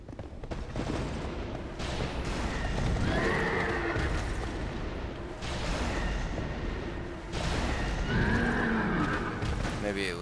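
A horse neighs repeatedly during a dual dragonrider boss fight in Dark Souls 2: Scholar of the First Sin, with loud whinnies over clanking, creaking mechanisms and hoof clatter while someone talks throughout.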